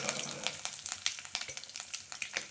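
Curry leaves crackle and sizzle in hot oil for an ivy gourd and chana sabzi. Sharp pops and spits ride over a continuous frying hiss, close and fairly loud, with no talking.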